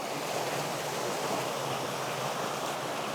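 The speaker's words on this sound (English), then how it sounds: "I've got it flowing on the big one so that you can see the fountain" Pool fountain water flowing into a hot tub, a steady broadband rush of splashing water, constant and fairly close, with no voices.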